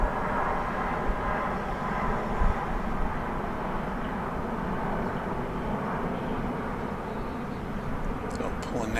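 Aircraft engines at a DFW Airport runway during plane spotting near an MD-11 being loaded, a steady broadband roar that holds throughout at moderate level, with a faint higher whine near the end.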